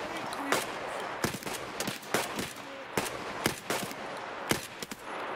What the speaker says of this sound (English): you're shooting buckshot at distance